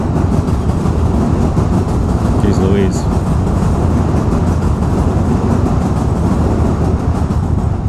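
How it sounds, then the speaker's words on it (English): A train passes on elevated tracks along Broadway in Brooklyn, a loud continuous rumble and rattle filling the whole stretch, with a voice briefly over it. "Another train."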